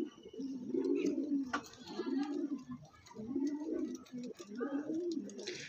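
Andhra pigeons, a male and female pair, coo nearby in a repeating rhythm of low throaty calls, four or five rolling coos in a row with faint chirps around them.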